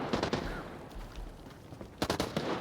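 Gunshots in the tactical shooter Arena Breakout, heard as faint scattered cracks early on, then a quick cluster of sharper shots near the end over a low background rumble.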